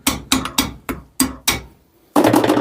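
A metal screwdriver is tapped into a Peugeot 107 front wheel bearing with a hammer, six sharp close knocks in an uneven rhythm, a short pause, then a louder, denser strike at the end.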